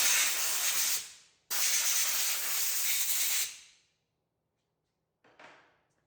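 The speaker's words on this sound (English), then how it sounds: "Give it a quick blow out there." Compressed air blows out a one-pound powder coat hopper in two loud, steady hissing blasts, a short gap between them, then silence and a brief faint puff.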